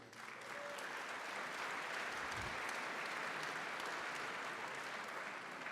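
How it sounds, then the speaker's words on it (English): Audience at an awards gala applauds continuously, a dense, steady wash of clapping from a large crowd that holds at even loudness throughout. "So please, a round of applause for them."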